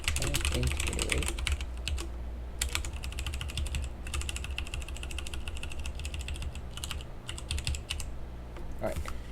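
Steady, rapid clicking of computer keyboard keys as code is typed, a dense run of close keystrokes with brief pauses between bursts, fairly quiet and unbroken by talk.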